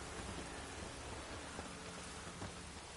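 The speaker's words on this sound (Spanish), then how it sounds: "mira, ahora ya se ve la lluvia," Steady, dense rain pours continuously in the video game The Witcher 3, a broad hiss with faint low rumbles of thunder beneath, quiet and even throughout.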